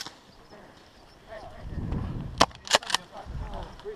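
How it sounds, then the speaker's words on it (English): Gunfire in the video game Spec Ops: The Rock comes as a quick burst of three or four sharp cracks over a low, rumbling game background. "Where are they shooting from?"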